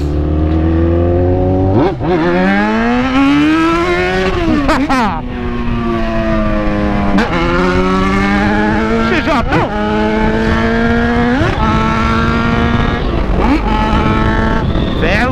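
A Jaguar XJ engine roars loudly and close, revving up and down in repeated swelling pulls, with someone talking over it.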